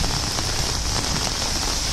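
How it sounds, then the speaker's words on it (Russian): Light rain pattering on an outdoor swimming pool in Lyubertsy, a dense, even hiss of drops striking the water, loud and close, with no voices. "И это всего лишь небольшой дождик."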